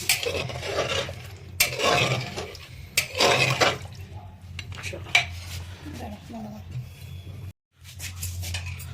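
Mutton curry with new potatoes, garam masala and salt is mixed in a pressure cooker, with repeated metal clanks and scrapes of a spoon against the pot over a low background, and brief faint voice.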